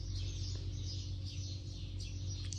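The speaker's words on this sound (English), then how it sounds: "How lovely are those birds?" Faint early-morning birdsong drifts in through an open door at a stopover in Tunisia, a few soft chirps and short calls repeating over a steady low hum.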